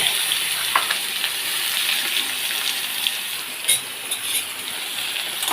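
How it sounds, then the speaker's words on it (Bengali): Garlic and onion fry in a wok, a constant bright hissing sizzle with a few sharper spits and pops, including a louder burst near three and a half seconds, close up with no talking. "রসুন আর পেঁয়াজ একসঙ্গেই ভেজে নেব।"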